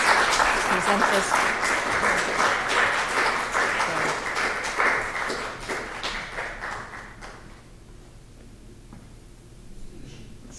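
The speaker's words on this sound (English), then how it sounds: "one more round of applause here" Audience applause at an academic talk on stress and substance use disorders: dense, sustained clapping from a crowd that fades after about seven seconds, with someone speaking briefly over it.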